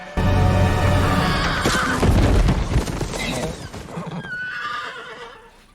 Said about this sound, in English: That is horse.